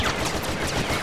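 Rapid automatic blaster gunfire from Star Wars Battlefront, a dense, loud stream of shots in quick succession for a brief burst.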